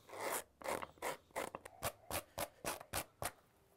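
Rhythmic scratching strokes roughing up the upper of a handmade turnshoe, about a dozen quick, close rasping scrapes in steady succession with no talking.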